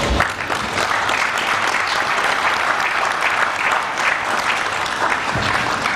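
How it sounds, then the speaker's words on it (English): Audience applause at a university graduation ceremony in Bahrain, a sustained, dense roar of many hands clapping steadily throughout, loud and close with no talk over it. "give a round of applause"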